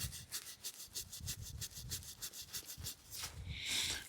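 A blade is scrubbed back and forth to remove rust, giving a quick, rhythmic series of dry rasping strokes, close but fairly quiet, ending in a brighter scrape, with no speech.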